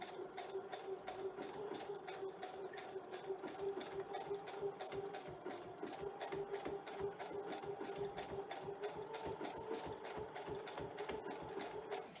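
A sewing machine runs steadily, its needle hammering in a fast, even rhythm with a motor hum underneath, close and continuous throughout.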